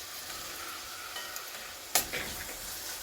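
Onions fry with ginger garlic paste for chicken samosa filling, a low, steady sizzle broken by one sharp scrape or clatter of a spoon against the pan partway through.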